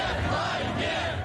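Protesters who have fled Russia chant against the war in Istanbul, a loud, dense crowd roar with voices massed together throughout.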